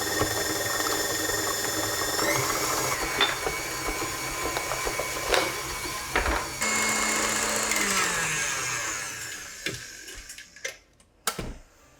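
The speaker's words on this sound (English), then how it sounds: "So I'll just add in some orange zest. You can add vanilla in if you want, it's not necessary. And just whisk everything together." An electric mixer whisks mascarpone cream with orange zest in a bowl, a loud steady motor whir with rattling beats that drops in pitch and winds down, followed by a few clinks and knocks.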